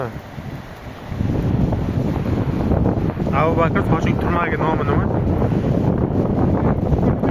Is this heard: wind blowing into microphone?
yes